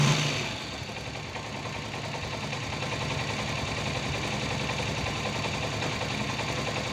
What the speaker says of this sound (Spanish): vamos a poner en marcha la moto